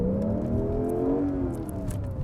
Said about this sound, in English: You can rev it from neutral.